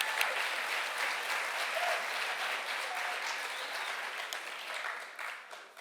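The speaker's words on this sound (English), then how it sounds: "Let's give him a round of applause." Sustained audience applause at a NAACP Miami-Dade congressional town hall, steady dense clapping filling the room for several seconds and slowly thinning toward the end, with no speech over it.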